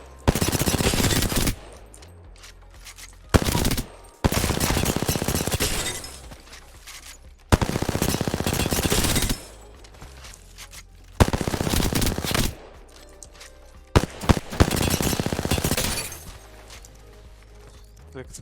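Gunfire from a weapon in Apex Legends shooting at training targets and dummies, loud bursts of rapid automatic fire in several long strings separated by short pauses, with a voice talking over parts of it.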